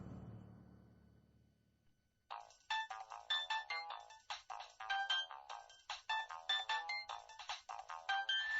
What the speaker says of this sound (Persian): تلفنت زنگ بزند.